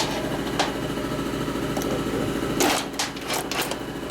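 A cutter grinds a port in a 1950 Harley-Davidson Panhead cylinder head, making a steady close buzzing motor drone with rhythmic chatter that turns into rougher bursts of grinding near the end.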